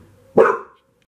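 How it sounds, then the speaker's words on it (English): A single loud dog bark, sharp and close, standing alone against a quiet background. "Dog might start barking."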